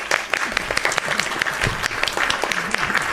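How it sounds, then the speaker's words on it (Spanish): Studio audience applauding to welcome a guest on a talk show, dense continuous clapping with sharp individual claps standing out, close and fairly loud. "aplausos por favor"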